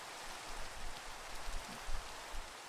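Steady rain falls in the Minecraft video game, a soft, even hiss of patter on surfaces with no talking.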